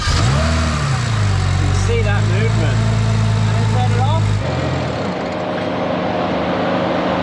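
A BMW N54 engine rumbles loud and steady at idle in close range, a low drone that drops in pitch and changes character partway through as it settles, with someone talking over it throughout.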